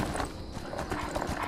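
Horse hooves gallop in a steady, fast clip-clop rhythm while riding through Skyrim, loud and close and continuing throughout.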